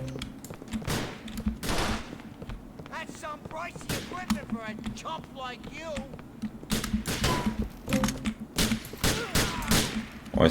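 Gunfire in the GTA: The Lost and Damned video game, heard as repeated sharp shots and short bursts spread across the stretch, mixed with game sounds while someone talks over it.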